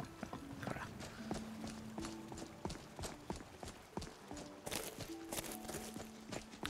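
Horse hooves clip-clopping in the Skyrim video game, a steady walking rhythm of close, distinct hoof strikes over faint background music tones.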